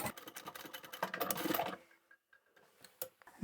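A sewing machine runs close up for under two seconds while stitching a large fabric bag, a dense mechanical whirr that stops abruptly, followed by a few sparse clicks and taps in near quiet.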